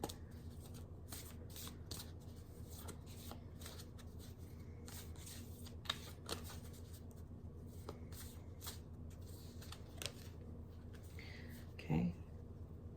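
A deck of oracle cards is shuffled over and over in quick papery riffles and taps, close and quiet, as cards are pulled.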